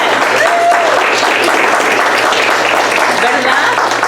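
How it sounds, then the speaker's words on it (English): A banquet crowd at the Raymond Diaz Memorial Scholarship Award Dinner in Greenfield, California, gives Greenfield LULAC a loud, steady round of applause, with dense clapping sustained throughout. "Let's give a big round of applause to Greenfield LULAC."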